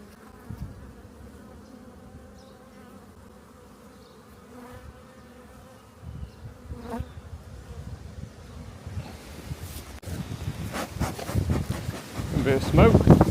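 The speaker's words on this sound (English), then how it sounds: "Bees looking pretty good. Lots of bees in there." Honeybees buzz steadily from an opened beehive during a hive split outdoors, a dense close drone that swells louder toward the end, with wind gusting across the microphone and brief speech in the background.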